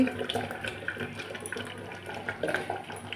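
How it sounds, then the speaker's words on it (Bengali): Water splashes and gurgles as it is poured into a pan of cooking meat, a close, uneven pour lasting a few seconds. "এবার জলটা ঢেলে দেবো মাংসের মধ্যে"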